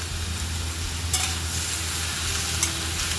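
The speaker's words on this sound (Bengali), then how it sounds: "আলু, কপি আর মশলাটা খুব ভালো করে একসঙ্গে নাড়াচাড়া করে মিশিয়ে নেব।" Fried potatoes, cabbage and spices stirred together in a pan, a steady dense sizzle with a low hum beneath and a couple of faint spoon scrapes, close and continuous.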